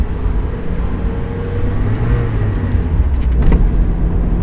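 A manual transmission car accelerates through its gears, a steady engine drone building slightly in loudness, with a brief rising burst near the end as the revs climb.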